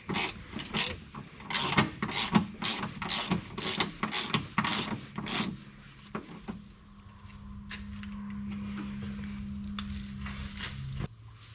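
Ratchet turning a bolt into the frame of a 2011–2020 Dodge Caravan cargo van during a heavy-duty coil spring install, giving a rapid series of sharp rasping clicks, then quieter metallic working with a low steady hum.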